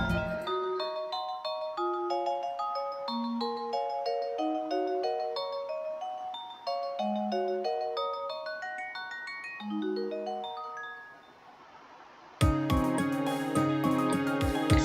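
Valley-area background music from the farming game Story of Seasons plays: a light, bell-like melody of cascading plucked and chiming notes, then a fuller, denser musical passage near the end, with no voices.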